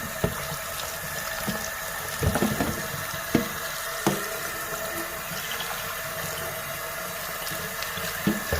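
Rice rinsed under a running tap in a strainer while preparing plain food for a dog, giving a steady close rush of water with a few soft knocks and splashes, no voices.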